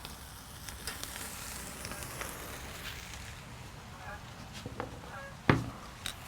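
Ribeye steaks sear right over open grill flames, a steady broad sizzle and crackle running throughout with one sharp metallic clank near the end; no one speaks.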